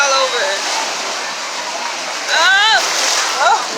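Ocean waves splash onto a beach in a steady, loud wash of surf, swelling briefly near the end, while people talk over the water.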